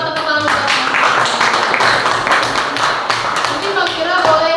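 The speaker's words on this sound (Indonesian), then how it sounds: "selamat tepuk tangan buat Magfira" Students in an Indonesian primary classroom clap for a classmate who came to the front, a dense, steady burst of many hands close by, with voices mixed in.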